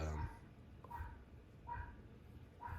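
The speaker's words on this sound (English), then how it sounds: "My dog Benny is saying thank you to your dog Leo, Shane." A dog gives faint, soft whimpering yips in a short repeated series, fairly quiet in a room, with some vocal sound at the start.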